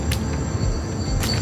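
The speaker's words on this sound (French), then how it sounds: "On n'entend que le bruit de la forêt." Steady Costa Rican forest ambience with a continuous hum of insects and crickets, plus a couple of brief higher chirping bursts; no voices.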